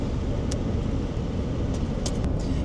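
Steady broadband road roar from inside a car cruising along the I-4 highway, with a constant low engine and tire rumble and a few faint clicks over it, no talk.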